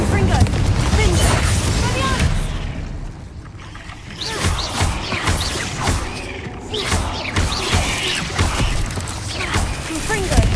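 Confringo spell blasts in Hogwarts Legacy inside a cave, several heavy booming explosions in quick succession over a dense, rumbling background, with voice-like sounds at times.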